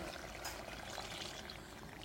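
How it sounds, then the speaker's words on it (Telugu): Milk pours into a pot of Hyderabadi-style mutton marag in a soft, steady stream, heard faintly and close up without talk. "ఇప్పుడు పాలు కూడా పోసుకుందాం."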